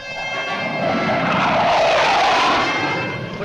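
An F-100 jet fighter approaches near an airfield tower, its loud roaring whine swelling steadily to a peak and then easing slightly.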